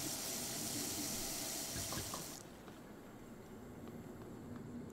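Water runs steadily from a tap in the video game Prey, a soft hissing stream for about two seconds before it cuts off, leaving a quieter hum.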